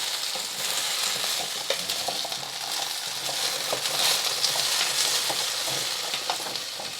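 Pre-cooked potatoes browning in a frying pan give a steady, close sizzle with crackling bursts and occasional stirring scrapes, loud and unbroken throughout.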